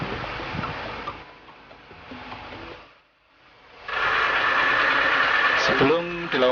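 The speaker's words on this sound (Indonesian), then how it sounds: "kita lakukan dulu penyedotan air dengan mesin sehingga memudahkan pengambilan udang" An engine-driven pump draining water from a shrimp pond hums steadily, drops away briefly, then returns louder and hissing, with voices joining near the end.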